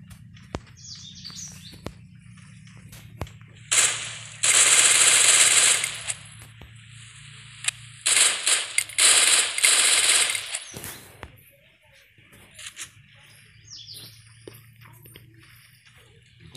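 Rapid bursts of automatic gunfire in the mobile video game Free Fire crackle in several loud volleys, with single shots and quieter game effects between them.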